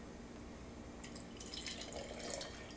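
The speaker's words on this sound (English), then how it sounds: "pour it again over a large ice cube" Gin poured over a large ice cube, a soft steady trickle of liquid with faint drips and a light glassy splash, quiet and close, with no voices.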